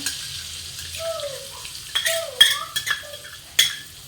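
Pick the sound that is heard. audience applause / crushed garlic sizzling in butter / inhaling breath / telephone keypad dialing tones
crushed garlic sizzling in butter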